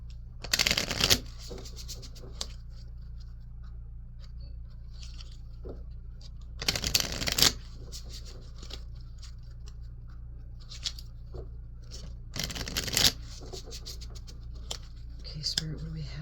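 A Chakra oracle card deck is shuffled in three short, loud riffling bursts spaced several seconds apart, with quiet handling and faint rustles in between.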